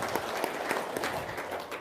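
Audience at a seminar giving a short burst of applause, dense and steady clapping throughout, fairly close and even in loudness.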